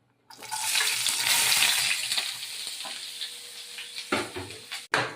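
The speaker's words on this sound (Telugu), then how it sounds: "ఫ్రై ఆనియన్ ఫ్రై చేసేద్దాం." Sliced onions hit hot oil in a pan with a loud burst of sizzling that settles into steady frying, broken near the end by a few stirring scrapes and clatters.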